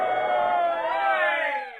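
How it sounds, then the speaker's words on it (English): A studio audience on a 1949 Martin & Lewis radio comedy show cheers and roars as a boxer enters the ring, a sustained, dense crowd swell with voices that fades and cuts off near the end. "The crowd cheers."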